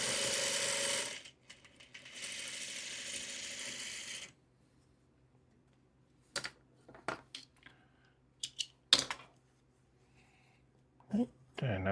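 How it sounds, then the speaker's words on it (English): Sewing machine stitching heavily starched quilt fabric pieces, an early loud whirring run giving way to short, sparse mechanical bursts and clicks at close range. "And I'm just going to sew this on."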